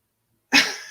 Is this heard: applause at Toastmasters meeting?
no